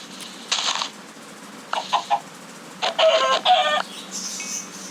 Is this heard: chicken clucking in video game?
yes